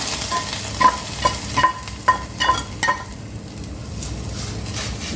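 A hot tempering of fried onion, garlic and chili hits a pot of jute greens with a sizzle, over a run of metallic clinks and stirring taps at close range, with no speech.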